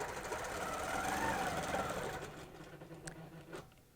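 A sewing machine stitches along a cable quilting ruler, a close, continuous rapid whirr that slows and fades toward the end, with a few sharp clicks as it stops.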